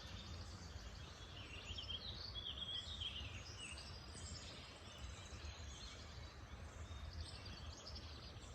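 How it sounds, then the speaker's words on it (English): Faint birdsong chirps and trills drift across a quiet outdoor scene, with a soft, steady background hiss and no voices. "You hear all the birds?"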